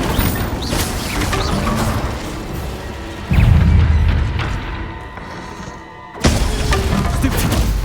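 Incendio fire spell blasts in Hogwarts Legacy, with a loud low whooshing burst of flame near the middle, a brief drop, then another strong blast alongside busy combat clatter.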